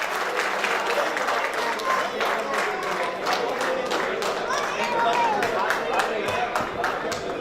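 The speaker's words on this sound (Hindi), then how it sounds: "तालियों में तो दम होना चाहिए" Sustained audience applause at an annual paint company award ceremony, many hands clapping in a steady dense patter with some crowd voices underneath.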